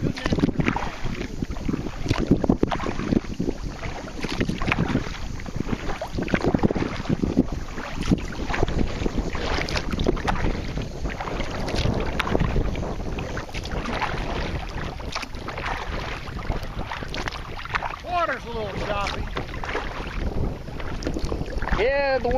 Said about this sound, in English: the wind picking up a little bit